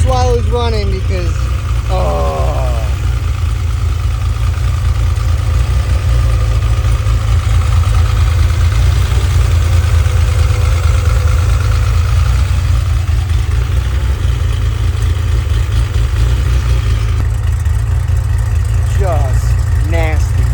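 A Porsche 911 RSR engine idles loud and close, a constant deep, throbbing rumble that holds steady throughout, with brief voices faintly audible at moments.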